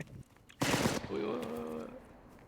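A rapid burst of gunfire in the video game Cuisine Royale cracks out loud and close, then a faint ringing tail and a voice speak over the fading echo.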